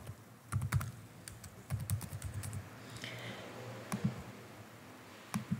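Fingers typing a username on a computer keyboard, quick clusters of close keystroke clicks with short pauses between bursts, faint and alone.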